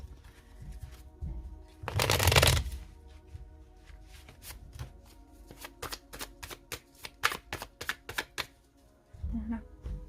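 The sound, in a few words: shuffling and spreading tarot cards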